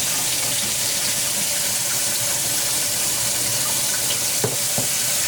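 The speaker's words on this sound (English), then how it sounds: "You have to squeeze like that and wash the rice" Rice being washed and drained under running water in a kitchen sink while making sushi at home, a steady rush of tap water throughout with a couple of sharper splashes near the end.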